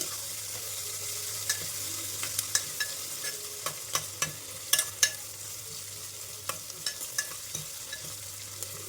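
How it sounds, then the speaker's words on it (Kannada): A large chopped onion fries in a pan for tomato bath, a constant low sizzle punctuated by repeated sharp scrapes and taps of a spoon stirring against the pan, fairly close. "ಇವಾಗ ನಾನು ಆನಿಯನ್ ಹಾಕ್ತಾ ಇದ್ದೀನಿ ಒಂದು ಆನಿಯನ್ ಕಟ್ ಮಾಡ್ಕೊಂಡಿದ್ದೀನಿ ದೊಡ್ಡದು"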